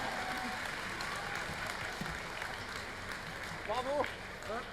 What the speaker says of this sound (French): Applaudissez-le, il s'est bien battu.